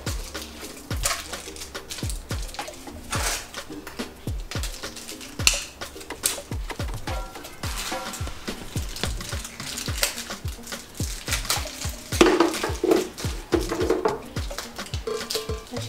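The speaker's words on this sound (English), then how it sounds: "So we're gonna add the ice blocks inside now, as we finish stirring it." Ice blocks clink and knock against a container as they are added and stirred into a Ghanaian Asana drink, giving a steady run of close, hard taps with louder clusters near the end.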